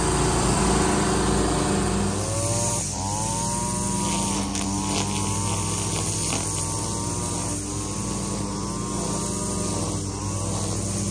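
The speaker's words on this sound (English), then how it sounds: "I'm going to see if I can set you up to watch her mow this" A lawn mower mowing in the rain runs as a loud, steady engine drone whose pitch dips and rises repeatedly as it works, heard close and continuous without any talking.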